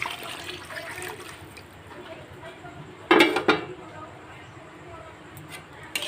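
Water splashes from a rinsed dish into a pot of chicken curry, a brief loud pour with clinks of dishware, while someone talks over the cooking.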